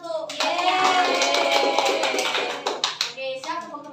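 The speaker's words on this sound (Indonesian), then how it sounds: "tepuk tangan untuk" A classroom of pupils claps together, a dense burst of applause lasting a few seconds before thinning out, with children's voices briefly heard around it.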